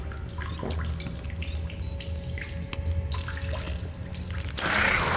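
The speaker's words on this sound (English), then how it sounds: "I will grab some water while I'm here." Water pouring and trickling as a character collects water in the video game The Solus Project, a steady close running-water sound that swells louder near the end, with no talk.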